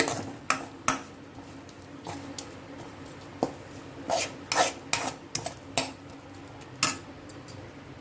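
Green chillies fry in a pan for a raw tamarind chutney, under a soft sizzle with repeated sharp clinks and scrapes of a spoon stirring against the metal, irregular and close, no voices.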